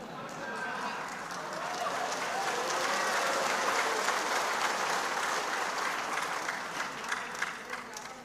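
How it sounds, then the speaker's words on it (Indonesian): A large audience at a national working meeting bursts into applause during a speech, swelling to a full, rippling round of clapping that lasts several seconds and tapers near the end. "Dari tadi kok tepuk tangan terus."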